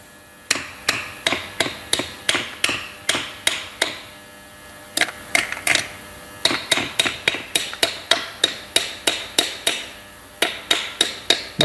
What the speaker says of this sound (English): Okay, let me bring a hammer.